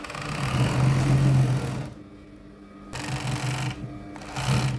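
A sewing machine stitches an elastic-fitted sheet in two or three loud, humming bursts separated by brief pauses, close up with no talking.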